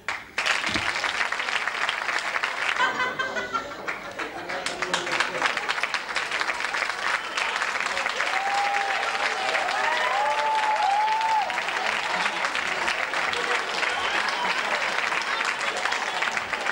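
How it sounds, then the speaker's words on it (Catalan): Theatre audience at an evening show in Benissa breaks into sustained applause for a famous international performer, loud and dense throughout, with cheers and a few voices rising above the clapping. "Rebem-la en un gran aplaudiment."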